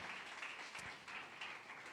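A church congregation applauds, a faint, short burst of clapping heard from a distance with a soft, washy texture.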